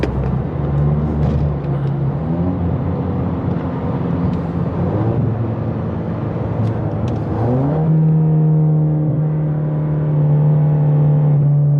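Ford Mustang EcoBoost with a big turbo pulls hard from inside the cabin, its engine droning loud and steady as it climbs through the revs, pitch rising, dipping at a shift near the middle, then holding a higher steady tone.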